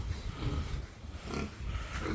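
Pigs on a Colombian farm give a few low, rough grunts close by over steady farmyard background noise.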